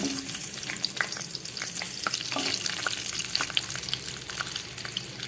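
Potatoes added to a pan with green chillies and fried, a continuous soft sizzle with scattered light stirring scrapes and taps, close and quiet, no one speaking.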